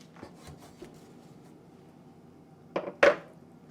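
Lid of a food dehydrator drying pears being opened: a few faint light taps and rustles, then two sharp plastic clacks close by at the end.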